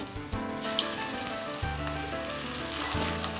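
Steady sizzling of colocasia leaf rolls (alu vadi) shallow frying in hot oil, loud and close, with a few bursts of stronger crackle as pieces are added.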